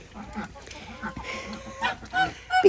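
Chickens on a smallholding cluck softly and intermittently close by, with short rising calls toward the end, while a person talks over them.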